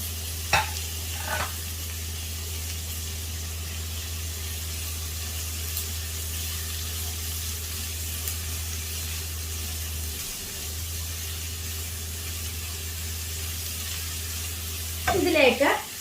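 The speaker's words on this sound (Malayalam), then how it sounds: "ഇതിലേക്ക് ഞാൻ സവാള അരിഞ്ഞത് ഇട്ട് കൊടുക്കുകയാണ്" Chopped onion sizzles steadily in a hot pan for a carrot cabbage thoran, a continuous frying hiss over a low hum, with brief stirring scrapes near the start and again at the end.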